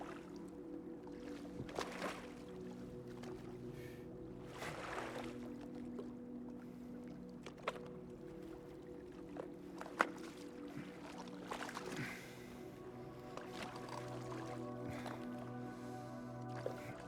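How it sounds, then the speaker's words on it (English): A small wooden rowboat paddled across a foggy lake in a video game, with soft, irregular splashes and drips from the oars over a low, steady ambient hum. "There's a small rowboat here that we can climb inside and begin paddling out into the eerie and ever foggy"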